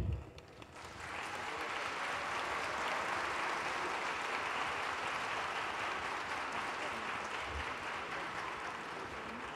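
Sustained applause from a large audience at a political event, dense steady clapping that swells after a brief opening and holds evenly throughout with no voices over it.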